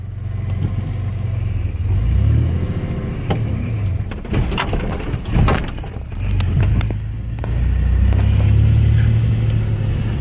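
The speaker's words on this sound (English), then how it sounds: "Come off the clutch. Give it gas." A manual-transmission car pulls away in first gear, the engine droning loud and close as it rises, eases off briefly, then climbs again, with a few faint rattles in the cabin.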